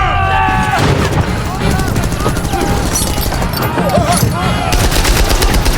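A film shootout with Nazi soldiers fills the scene with dense, loud gunfire, rapid machine-gun bursts and overlapping shots layered over a tense musical score, continuous and intense throughout.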